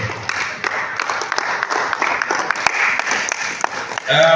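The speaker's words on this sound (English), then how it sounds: "Please jam your hands together again for Doctor." Audience clapping at a university MBA convocation ceremony, a busy patter of hands with sharp individual claps standing out, while a voice carries on over it near the end.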